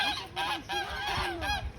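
Domestic geese in a farmyard with a covered shed honk in a rapid chorus of repeated nasal calls, close and loud, overlapping in bursts.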